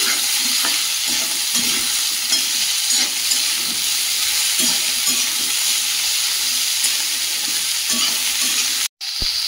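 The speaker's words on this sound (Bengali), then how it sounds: "কুমড়োগুলো দিয়ে একটু নাড়িয়ে নিয়েছি" Pumpkin pieces being stirred in a pan with fried ginger for a soybean curry, giving a steady sizzle and frying hiss with soft, repeated scrapes of the spoon throughout, close and continuous, with a brief drop near the end.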